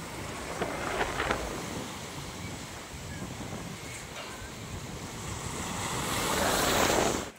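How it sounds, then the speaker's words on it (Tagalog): Ocean waves surge and wash continuously, with steady rushing surf and wind buffeting the microphone, building louder toward the end. "Grabe yung alon mga kapatid."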